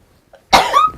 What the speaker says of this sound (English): with my fairy sneeze, little pixie sneezes